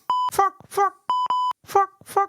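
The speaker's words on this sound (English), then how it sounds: "I'm supposed to beep that" Two long steady censor bleeps cut across speech, with a person talking in between and after each tone.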